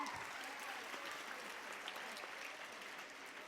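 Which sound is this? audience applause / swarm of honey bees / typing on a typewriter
audience applause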